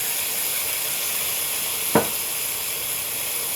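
Onion, garlic and ginger sizzle in hot oil in a pan, a steady, close hiss throughout with a single sharp knock of a utensil partway through.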